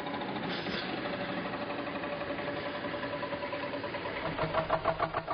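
Small narrow-gauge train engine on a 76 cm gauge line in the Balkans, running with a steady rapid chugging beat that grows into more pronounced pulses near the end, moderately distant and fairly faint, with no talking.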